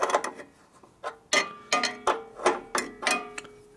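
Ratchet clicks in short bursts while fittings are tightened on a 1965 Harley-Davidson 74ci FLH panhead motor during a rebuild, several separate clusters of close, crisp ratcheting strokes with brief pauses between them.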